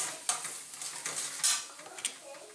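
Pav bhaji is being stirred in a pan with a pinch of asafoetida on top, giving soft scraping strokes over a low sizzle, with a few sharper spoon clinks against the pan.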